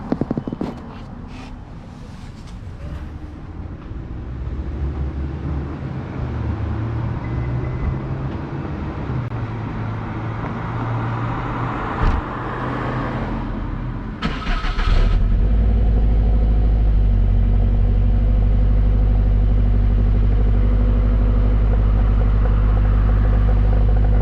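A Subaru STI engine on a semi cold start goes from rough, uneven running to a loud, steady low idle hum. It is close up, with a few clanks and shuffles partway through.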